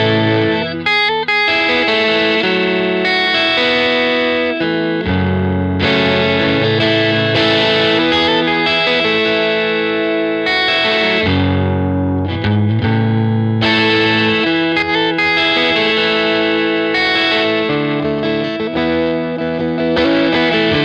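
Electric guitar with distortion and chorus-style effects strums an intro rhythm, loud and continuous with steady strummed chords and brief pauses, alone without talk.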